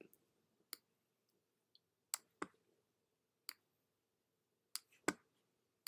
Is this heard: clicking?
yes